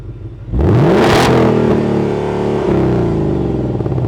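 Ford Mustang GT V8 in racetrack exhaust mode, revved once hard to a loud, raw roar close by, then dropping back to a deep, rumbling idle that continues to the end.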